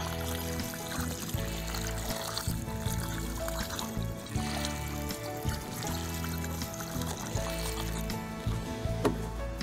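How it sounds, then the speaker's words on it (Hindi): Water pours continuously and splashes onto freshly planted soil around a mango sapling, a steady rushing trickle with no speech. "इसमें पानी डाल दें लगाने के बाद।"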